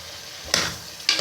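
Potatoes being stirred into minced meat frying in a pan for aloo keema, two quick scraping stirs over a steady sizzle, close and moderately loud.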